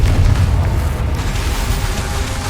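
A Confringo fire spell explodes in the Hogwarts Legacy video game: a loud, booming blast with a heavy low rumble that holds steady for a couple of seconds, with no talking.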